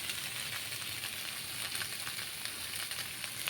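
Rice being stir-fried with onion, green chilli and egg in a hot pan, a steady close sizzle and frying hiss running continuously with faint stirring scrapes.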